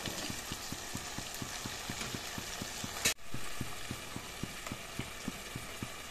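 A spoon stirs chicken curry with green peas in a pan, scraping in a steady, regular rhythm under a constant close sizzle, with one sharp clank of metal near the middle.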